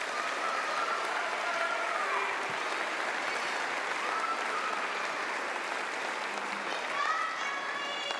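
An audience applauds students at a middle school spring band concert, with dense, steady clapping that holds at full strength from start to finish and a few voices mixed into the crowd.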